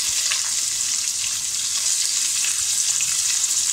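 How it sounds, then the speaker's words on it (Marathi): Onions for chicken biryani gravy fry in a pan with whole spices, giving a loud, steady hiss and crackle of sizzling oil with no talk. "फक्त त्याचा गोल्डन ब्राऊन कलर येईपर्यंत आपल्याला छान परतून घ्यायचं आहे।"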